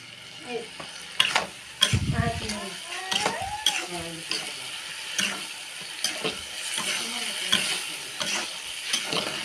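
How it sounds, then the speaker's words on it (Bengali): Masoor dal with spices sizzles while being fried in a pan, with repeated scraping and clattering strokes of a stirring utensil, close and moderately quiet. "মশলাটা এমনি করে কষাই নেবেন, মজা নেবেন"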